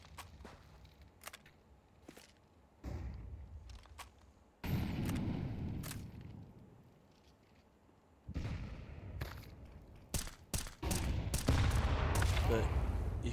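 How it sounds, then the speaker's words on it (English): Rapid gunfire from the video game Counter-Strike 2, a player spraying shots at a wall; bursts of crackling shots come in several loud clusters with quieter gaps between them. "you can see he's shooting straight at the wall"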